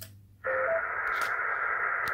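Yaesu FT450D amateur radio transceiver in suburban Adelaide switching on to a sudden loud, steady hiss of interference noise that fills the rest of the clip with a brief tone near the start.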